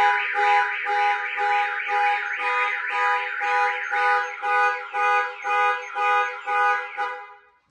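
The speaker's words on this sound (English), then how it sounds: "So we're going to trigger the alarm and show you what would basically happen if a thief tried to break the glass." Car alarm on a 2021 Toyota Tundra fitted with a Compustar T11 system, blaring a loud, close electronic warble that repeats in a steady pulsing cycle before cutting off.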